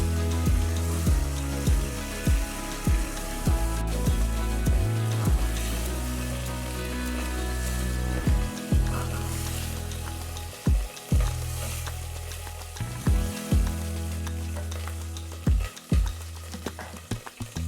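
Beef pieces sear and brown in a hot pan, giving a continuous close sizzle with repeated sharp thuds and knocks from a utensil against the pan; no one talks.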